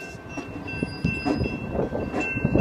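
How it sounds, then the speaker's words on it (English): A train led by an SD60 locomotive rolls past the Artillery Road railroad crossing, a close, rumbling clatter of wheels and cars with a steady high ringing tone above it. "This train's probably gonna be coming slow. SD60 on the point!"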